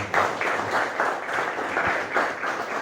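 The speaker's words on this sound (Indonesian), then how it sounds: "Tepuk tangan untuk teman kalian." Students in a classroom clap for a classmate at a teacher's prompt, a brief round of steady, moderately loud applause with rhythmic bursts.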